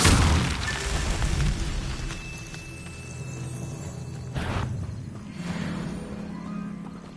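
Incendio fire spell cast in Hogwarts Legacy, a burst of whooshing flame and booming impacts that fade into crackling game ambience, with a second softer flare later on.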